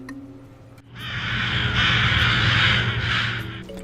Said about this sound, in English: In this clip, a flock of crows are reacting to the body of a dead crow.